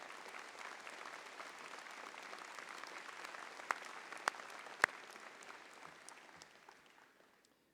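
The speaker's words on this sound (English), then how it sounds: "Please stand and be recognized and take some applause for Darlene." Audience applause at a 2019 undergraduate commencement ceremony, a soft, distant, steady patter of many hands with a few sharper single claps standing out, gradually fading toward the end.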